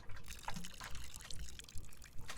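In the video game Botany Manor, water pours and trickles in short, uneven gurgles, quiet and close, with soft splashes bunched in bursts.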